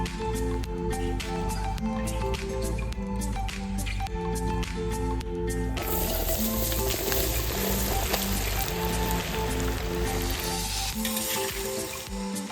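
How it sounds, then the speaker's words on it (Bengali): Potatoes frying in oil in a wok give a steady, dense sizzle that holds through the whole stretch, close and fairly loud, with a continuous low hum beneath and no voices. "আলু ভেজে নেব, কড়াইতে তেল দিয়ে দিচ্ছি।"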